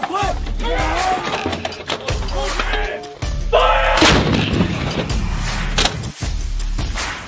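An Australian Army artillery gun fires during a field exercise, heavy booming blasts and rumbling mixed with shouted commands and vehicle noise, loud and close throughout.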